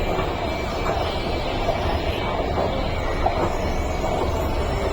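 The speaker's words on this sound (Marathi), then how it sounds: "आमची ट्रेन येते वाटतं." A Mumbai metro train arriving at a station platform, giving a loud, steady rumble with faint rhythmic wheel clatter and a thin high squeal throughout.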